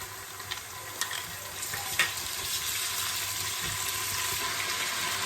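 Ginger and garlic paste sizzles in a pan of frying onions, a steady, fairly close hiss of cooking with a few light clinks and stirring knocks near the start.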